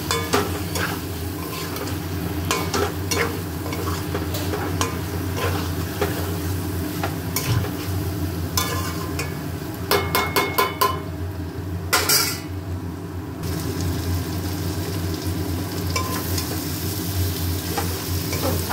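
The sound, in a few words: stirring and frying mutton in oil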